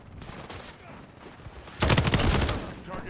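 Shotgun fire in an online shooter match, a faint patter of distant shots early on, then a louder cluster of blasts in the last second.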